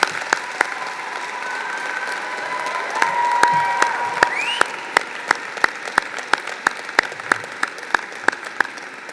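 Graduates at a university graduation ceremony applaud in a cathedral, a sustained reverberant wash of clapping with some cheering that swells midway, then breaks into scattered individual claps.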